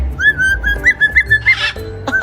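A pet parrot whistles a run of short, bright rising notes at steady intervals, close and clear, with a brief noisy squawk near the end.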